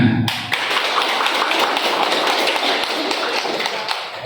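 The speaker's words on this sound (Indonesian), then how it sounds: "Oke, saya suruh silakan tepuk tangan." A class of students claps hands together in a classroom, a dense, sustained burst of many overlapping claps that starts abruptly and continues steadily for several seconds, close and loud.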